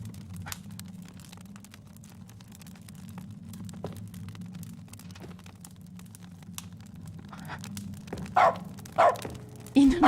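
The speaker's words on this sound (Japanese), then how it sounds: "犬の声止まんねえな。" A dog barks in short bursts toward the end, the barks rising over a steady bed of game music and background sound.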